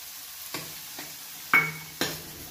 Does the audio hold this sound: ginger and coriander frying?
yes